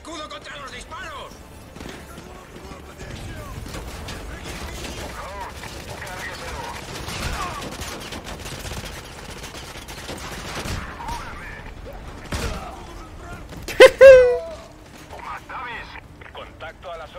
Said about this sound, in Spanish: Usa el escudo contra los disparos.